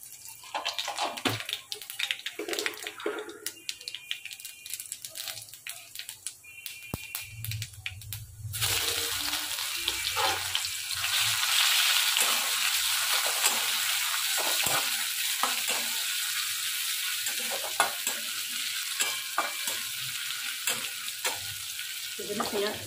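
Nigella seeds and chopped onion fry in hot oil in a wok, a steady close sizzle with crackle and stirring scrapes that swells louder partway through as the onions go in.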